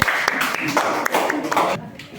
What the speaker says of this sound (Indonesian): kasih tepuk tangannya untuk kelompok 1